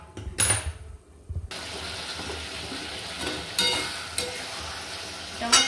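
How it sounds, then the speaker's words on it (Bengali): Chicken pieces sizzle and scrape in a hot pan while being sautéed and stirred for a chicken curry, a steady frying hiss broken by occasional louder stirring clatters, with no talk. "আমার প্রায় অর্ধেক কষানো হয়ে গেছে মাংসটা"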